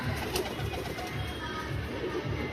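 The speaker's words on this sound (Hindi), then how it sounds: "भाई ये हमारा सबसे पुराना कबूतर है" An old domestic pigeon cooing close by, repeated low throaty coos in a steady rhythm over faint background noise.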